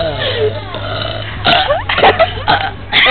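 A person burps loudly and repeatedly up close, in several drawn-out belches.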